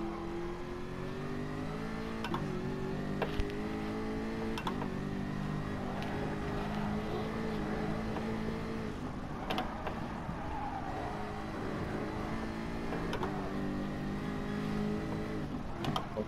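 A race car's engine revs and drones continuously in the online racing game Gran Turismo Sport, pitch climbing and dropping with each gear shift, with sharp clicks at the changes, loud and steady throughout.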